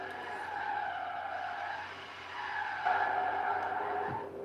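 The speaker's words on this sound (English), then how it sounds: "That was me on the e-brake." In Forza Horizon 3, a game car slides on the e-brake with a sustained tire squeal and skid, rising and shifting in pitch over a few seconds with engine noise underneath.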